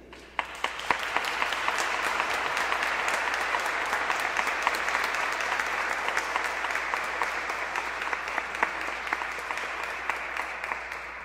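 A congregation at Sunday mass applauds the Grand Chœur de Montréal choir, starting with a few sharp claps and swelling into loud, steady applause that continues throughout, with individual claps popping out.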